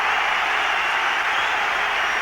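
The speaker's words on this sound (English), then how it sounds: "It's good applause, the Dutchman, as he leaves the scene. And a great cheer for Pat Nevin." Football crowd at an Everton v Liverpool FA Cup fifth-round second replay applauds and cheers for Pat Nevin, a steady, dense wash of clapping and crowd roar with no break.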